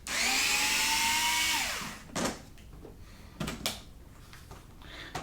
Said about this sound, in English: I'm using an electric screwdriver just to make your life